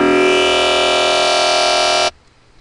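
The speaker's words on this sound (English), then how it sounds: "I'm going to show you guys how to make a robotic growl sound that sounds like this." A robotic growl dubstep bass patch built in the Massive synth sounds as one loud, sustained, buzzy tone that holds steady for about two seconds, then cuts off abruptly into near silence.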